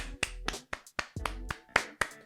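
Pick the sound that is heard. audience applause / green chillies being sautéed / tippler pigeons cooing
audience applause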